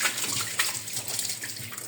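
Hot water pours steadily into a homemade FastWasher 24 washer, a continuous rushing, splashing stream that holds fairly even for about two seconds with no talking.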